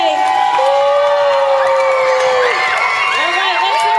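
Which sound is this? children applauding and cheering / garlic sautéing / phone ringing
children applauding and cheering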